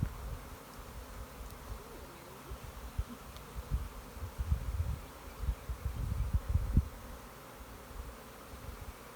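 A honeybee swarm hums steadily as the bees fan, a dense close-up drone from many insects with soft rustling bumps near the box and no talk.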